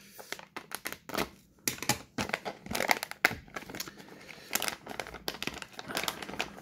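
Plastic packaging holding scale-model parts for a Volvo FH16 truck is opened up close, with irregular bursts of crinkling, crumpling and tearing.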